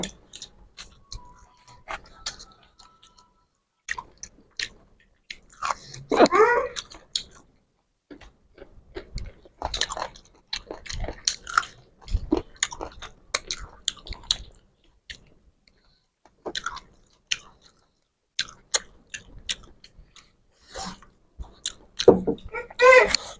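Someone eating a chicken leg piece with pulao and chicken korma makes intermittent close-up chewing and soft crunching sounds, scattered in irregular bursts with quiet gaps and faint voices in between.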